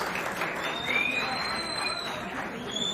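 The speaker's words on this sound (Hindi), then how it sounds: "आप सबकी भरपूर तालियों में नुसरत बुखारी और ताहिर रसीद साहब" Audience applause welcoming guests Nusrat Bukhari and Tahir Rasheed onstage at a university Bait Bazi poetry contest gala, a steady wash of clapping from a crowd with murmured chatter, continuous and fairly loud throughout.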